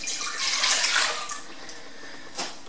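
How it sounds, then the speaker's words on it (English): Milk, 450 millilitres, pours into a fairly large saucepan with a continuous soft splashing rush that swells and then tapers off, heard close up with a brief final splash. "Into a fairly large saucepan, I'm going to put, this is 450 mils of milk"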